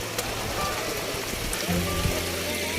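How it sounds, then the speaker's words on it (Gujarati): Mountain water at Girnar streams and splashes down over rocks in a steady, continuous wash, with a voice talking over it. "તમે જુઓ અત્યારે આ ડુંગરનું પાણી ઉપરથી પાણાનું પાણી આવે છે ઉપરથી"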